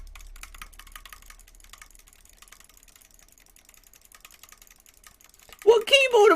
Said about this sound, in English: Do you hear the keyboard?